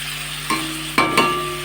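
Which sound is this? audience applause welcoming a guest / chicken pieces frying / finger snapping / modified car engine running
chicken pieces frying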